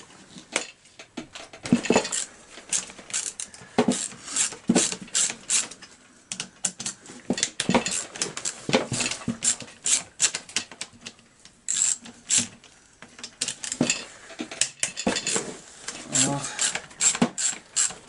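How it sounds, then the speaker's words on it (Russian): Ratcheting clicks and metallic tool clatter come in irregular bursts close by, as four cylinder bolts are worked loose on a Partner 350/351 chainsaw, with someone talking intermittently in Russian over them. "Вот они у нас, 4 болта. Мы их берем и по очереди откручиваем."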